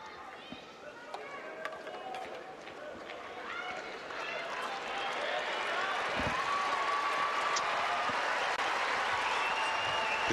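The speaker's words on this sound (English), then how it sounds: "The crowd attempting to get behind Kim Clijsters, possibly for the last time, to try and lift her out of this hole." Tennis crowd at the 2010 Australian Open applauding, a broad wash of clapping that swells from moderate to full and sustained, with a commentator talking over it.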